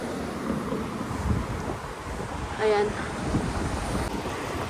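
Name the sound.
wind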